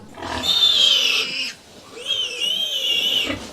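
Two loud, shrill squeals from a sow on a pig farm, close by, each lasting about a second, separated by a short pause.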